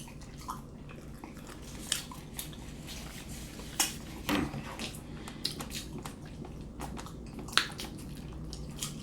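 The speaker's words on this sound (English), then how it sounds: "It's a lot of chewing." Someone chewing hot dogs during a twelve-in-twelve-minutes eating challenge, with soft wet mouth sounds and intermittent clicks and clinks from plates or utensils, close and fairly quiet, with no talking.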